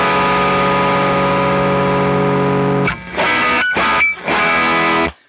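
Big distorted electric guitar chords through a pedalboard combo, one long sustained wall of crunch, then a few choppy stabs with brief gaps, loud and close, alone without talk.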